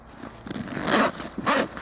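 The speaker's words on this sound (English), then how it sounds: "now open up the zipper" A zipper is pulled open in two quick, rasping strokes, close and brief, with no talking.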